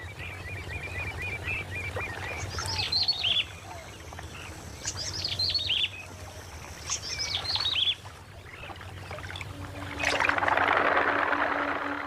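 Birds in a Hong Kong marsh wetland give repeated chirping calls in several bursts, with a watery rushing wash and a low hum underneath.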